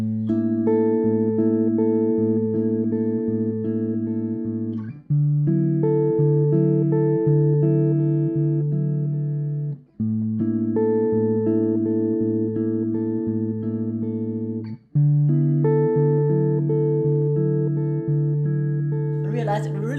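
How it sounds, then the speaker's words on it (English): Piano playing a V-I chord progression resolving with a Phrygian, sus4b9 colour: four sustained chord phrases of roughly five seconds each, clear and close, alone with no talk. "One last 5-1 with the Phrygian sound."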